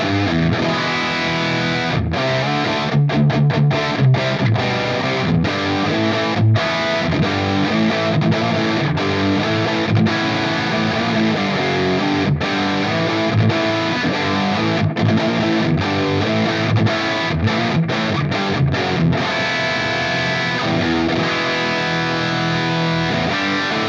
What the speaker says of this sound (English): So the same sound with the Ecstasy Red sounds like this.